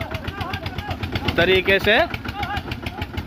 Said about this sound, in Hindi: ट्रैक्टर द्वारा ट्रॉली पलटी जा रही हो